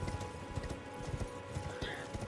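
Horse hooves clip-clop in a steady trotting rhythm as a mount sprints in the video game Elden Ring, with game ambience and occasional speech-like sounds in the background.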